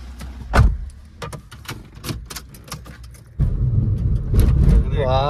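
A used car on a test drive: scattered clicks and thumps, then a steady, close, low engine rumble for the rest of the stretch, with someone talking over it.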